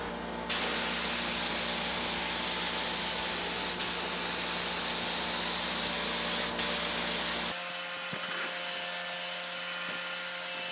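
A spray gun lays a first coat of paint on the hood of a 1950 Chevy truck, a loud steady close hiss with a few brief breaks before it cuts off, leaving quieter room tone.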